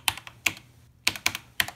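Keys struck on an SWTPC 6800 terminal keyboard, a few separate sharp clicks in two short bursts with a pause between, close and crisp, no talking.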